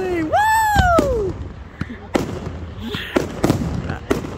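Fireworks at Loch Sport, with a rising whistle followed by a series of sharp bangs and crackling bursts, some close and loud and others farther off, spread irregularly across several seconds.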